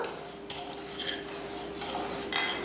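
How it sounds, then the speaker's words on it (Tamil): White semolina (rava) being dry-roasted in a kadai: a steady grainy hiss with a few light metallic clinks and scrapes of the spoon against the pan, close and fairly quiet, without talk. "ஒரு கடாய் வச்சுட்டு இந்த மாதிரி சின்ன கப்பில் ஒரு கப் அளவுக்கு ரவை சேர்த்துக்கிறேன் வெள்ளை ரவை இப்போ இதை வறுத்தரலாம்"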